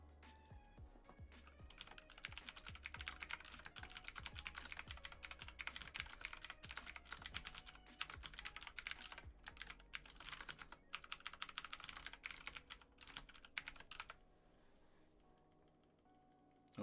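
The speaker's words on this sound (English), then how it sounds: "We got them keyboard sounds" Computer keyboard typing, dense and continuous clatter of keystrokes close by for about fourteen seconds, then stopping abruptly into quiet room tone.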